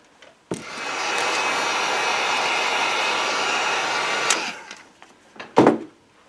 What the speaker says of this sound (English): Let me get the heat gun, and we're going to put a really good dry on this